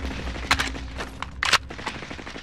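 Gunfire in a video game: a few separate sharp shots and short bursts over a low background rumble.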